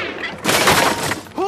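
Gunfire erupts in a tense confrontation, a dense close burst of shots lasting about a second between stretches of shouting and voices.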